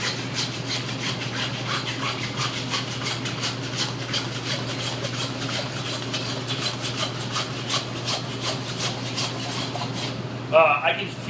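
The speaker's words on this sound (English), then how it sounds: "Now we're going to use the saw and take off the head loin" A hand saw cuts through a beef hind quarter to take off the loin: steady, close rasping strokes run continuously, then end in a brief clatter near the finish.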